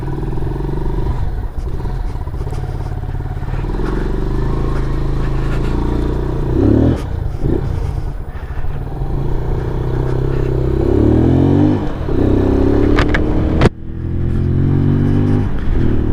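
A 2023 Venom SS3 KP Mini 150 motorcycle starts up close by and revs repeatedly, its loud rising and falling engine tones continuing without pause, with a sharp blip near the end.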